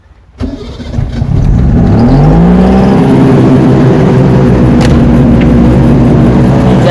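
Suzuki ST20 two-stroke pickup engine cranking and firing up, then settling into a loud, raspy, steady run with a rising pitch as it catches, very close and dominant throughout.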